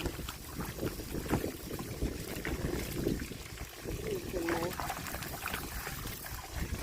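Water splashes and trickles softly as freshly picked green Kluai Hom Khiao bananas are washed by hand, a faint, steady wet sloshing with a person speaking over it.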